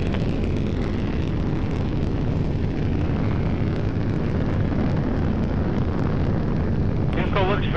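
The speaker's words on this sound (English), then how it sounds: "The solids are burning nicely, very symmetrical." Delta II rocket launch with solid motors and main engine burning, heard as a loud, continuous, broadband roar that stays constant throughout, heavy in the low end like wind buffeting the microphone.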